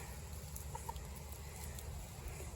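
Chicken clucking outdoors in rural New South Wales, Australia, a few soft, brief clucks sitting low against steady background noise, faint and fairly distant, with no speech.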